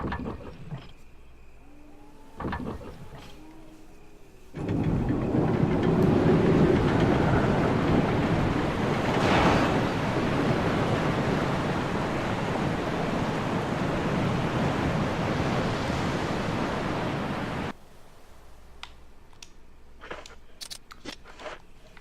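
Waterfall in the survival horror game Resident Evil Remake: a steady, loud broadband rush of falling water lasting about thirteen seconds, starting and stopping abruptly, with quieter footsteps and thuds before and after.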